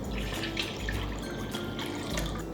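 Tap water runs into a cooking pot, a steady close gush and splash with bubbling and small drips, continuous and fairly loud with no speech.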